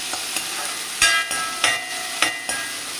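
Chilies frying in a pan with onion, garlic and curry leaves, a steady close sizzle broken by several sharp scraping stirs at regular intervals, with no voices.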